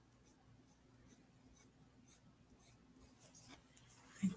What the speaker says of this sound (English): I can just color this in with a pencil.